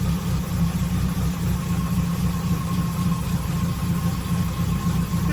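Car engine fitted with a Zenith Stromberg carburetor idling at about 700 RPM, a steady low rumbling drone heard up close and alone, with no voices.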